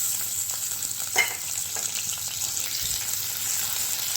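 Chopped onion frying in a pan with crushed garlic and dry red chilli, a continuous bright sizzle with a soft scrape of stirring at one point and a faint hum beneath.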